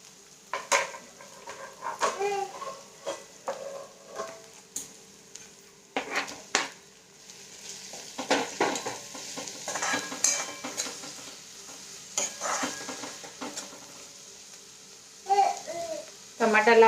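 Tomatoes go into a pan of frying onions for misal, bringing a steady sizzle with repeated clattering and scraping of a spoon against the pan, plus occasional speech in the background.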